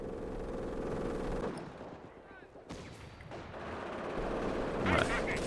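Dense, sustained battle gunfire from the World War II strategy game Company of Heroes Blitzkrieg, with rifle and machine-gun shots crackling over a constant roar of combat and a brief lull midway before the firing builds again.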